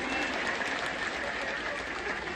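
Steady, dense applause from a large audience at a Bhaubeej celebration gathering in Chandgad, continuous and fairly loud throughout with a faint murmur of voices mixed in.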